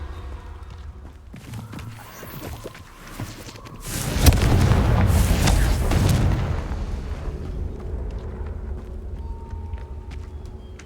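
Confringo fire spell explosions in Hogwarts Legacy, cast against spider nests: a loud booming blast bursts out and rolls on for a couple of seconds, then decays into a crackling tail over a quieter game ambience.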